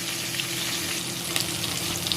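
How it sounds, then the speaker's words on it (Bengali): Hilsa fish fries in mustard oil, giving a dense, constant close sizzle with small sharp pops and spatters scattered through it and no talking. "এবার ইলিশ মাছ ভেজে নেব"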